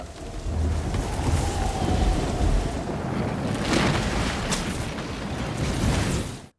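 Heavy storm over New Orleans in a film scene, with dense, roaring rain and gusting wind forming a loud, continuous wash that holds steady for several seconds before cutting off.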